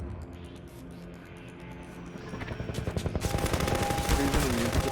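A combat helicopter in Half-Life 2 opens fire along the canal with a machine gun, a rapid, loud stream of shots building over the engine rumble and game music, continuing without pause toward the end.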